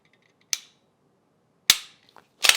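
A Glock 17L pistol with an enhanced striker system has its trigger pulled and reset, making sharp, close mechanical snaps. Two isolated clicks are followed by a quick double click in otherwise quiet surroundings.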